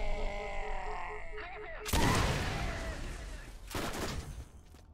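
Rapid gunfire bursts in the Borderlands video game, with curving bullets: a dense crackling volley erupts, fades, then a second loud burst follows, while someone talks over the start.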